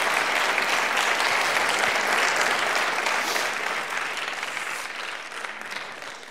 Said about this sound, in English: I would like to ask for a warm round of applause.